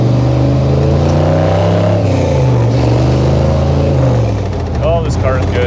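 A 1955 Chevy Nomad gasser running rich rumbles steadily while being driven, its deep engine drone shifting pitch as it pulls, loud and close under a voice talking.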